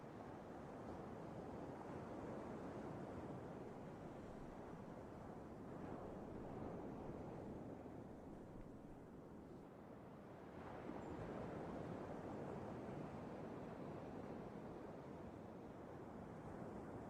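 Strong wind at a beach roars steadily across the microphone for the whole stretch, loud and buffeting, dipping briefly before surging back, with no talk.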